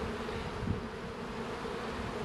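Honey bees buzz steadily around an open hive during an early spring inspection, a dense, close, continuous hum with no voices.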